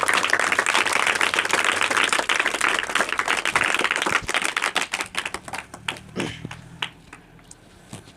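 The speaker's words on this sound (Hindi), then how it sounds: "ताली बजा दीजिए आप लोग।" A group of children applauds together, a dense burst of rapid clapping that holds strong for several seconds and then thins into scattered, fading claps.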